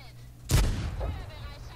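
A single tank cannon shot in the World of Tanks video game, a sudden loud boom that rolls off into a decaying rumble, with a voice talking faintly around it.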